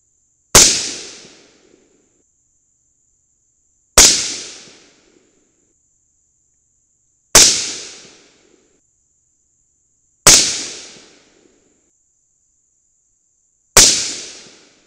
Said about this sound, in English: Okay, last five shots.